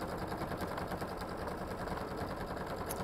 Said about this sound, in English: I'm just going to start and sew.